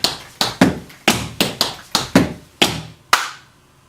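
Sharp, evenly spaced hand claps keeping count in a dance step routine, about nine crisp hits with short decays, loud and close, the last ringing out before silence.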